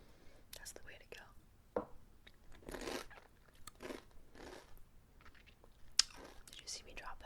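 Close, crisp bites and chewing of crunchy reindeer chow made from cereal, M&Ms, pretzels and peanut butter, with sharp crunch bursts between soft whispering.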